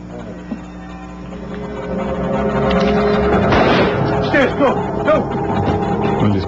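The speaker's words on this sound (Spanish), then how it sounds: "Al escuchar el disparo" A gunshot rings out at a Yugoslav embassy: a sharp crack early on, then louder bursts and clatter amid a rising background of crowd noise and voices.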